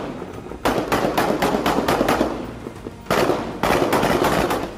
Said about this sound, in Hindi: जिसमें उसके लड़ाके मशीन गन से सामने की तरफ हमला करते हुए नजर आ रहे हैं